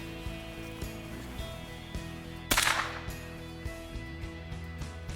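A single sharp rifle or gun report at an outdoor target shoot, fairly loud and close, standing out once against a steady low background hum.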